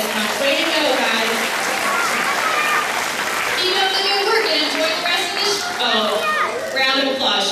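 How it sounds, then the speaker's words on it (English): A school show audience gives loud, sustained applause. Children's voices and cheers rise over the clapping throughout. "I want you guys to all give yourselves one more big round of applause"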